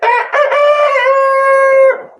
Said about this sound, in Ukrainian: це ж мої пітушки, півнички мої, які предназначені на м'ясо